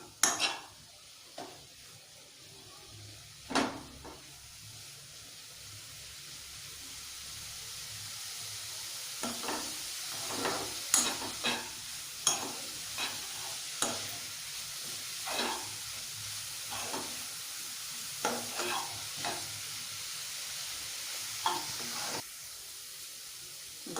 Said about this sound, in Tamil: இந்த மாதிரி கேரட்டை வந்து கொஞ்சம் நேரம் நல்லா வணங்குற வரைக்கும் கிளறிக்கலாம் அந்த நெய்யிலேயே.